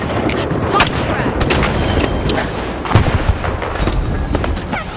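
Video game combat rages as a frag grenade booms amid dense gunfire, with loud overlapping bursts, thuds and crackling shots filling the whole stretch.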